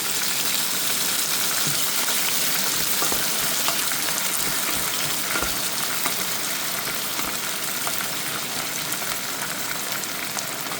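Diced tomato fries in a pan with a loud, dense, continuous sizzle and crackle that holds steady throughout, with no voices.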